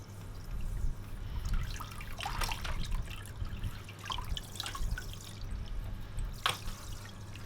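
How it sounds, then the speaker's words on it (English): Water running and dripping as a dog's head is rinsed during a bath at home, with irregular splashes and trickles over a low steady hum. "we are rinsing the head"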